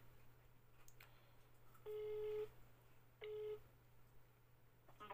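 Phone call tones on a Movistar line, two steady electronic beeps about a second apart over faint line hum, with a brief click before and after and no voice.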